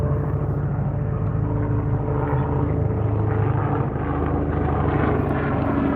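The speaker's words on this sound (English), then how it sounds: "Y'all see all these helicopters flying over?" Helicopters pass overhead, a continuous low rumbling engine and rotor drone that stays steady and fairly loud throughout, with no talking.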